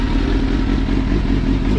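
Sportbike engine with a standalone ECU running on its two-step launch limiter, a loud, steady, close engine roar with rapid crackling pulses throughout.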